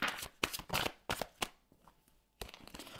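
Tarot and oracle cards being shuffled up close, several loud riffling bursts of flicking card edges separated by short pauses, with no speech.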